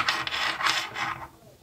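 A threaded nut is screwed onto a USB charging cable connector from an AOHI custom-length cable set, giving short, close scraping rasps in quick succession.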